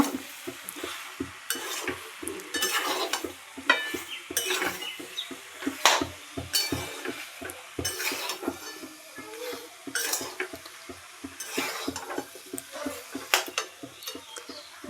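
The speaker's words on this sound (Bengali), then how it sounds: "এবার ভালোভাবে আলু আর এঁচড়কে মিক্স করে নেব" Fried potatoes and green jackfruit are stirred together in a pan, a spoon scraping and clinking in a steady rhythm over a soft sizzle, close and moderately loud.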